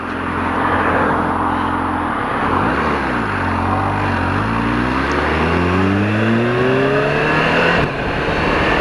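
Kawasaki H2 SX SE sport-touring motorcycle accelerating hard on an English road, its loud engine note climbing in pitch through several gears with brief dips at each seamless quick-shifter change, close and unbroken.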